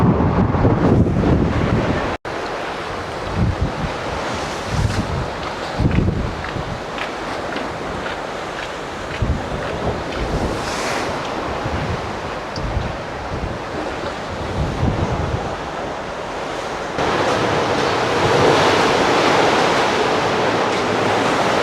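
Waves crash and wash against the bow of the Cunard cruise ship Queen Anne at sea in the Bay of Biscay, with a steady roar of wind buffeting the microphone throughout and louder surges of spray rising and falling.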